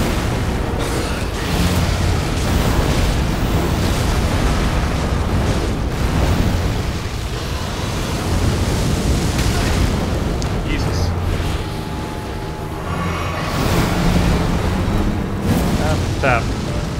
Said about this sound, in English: There's a big explosion out of the crater.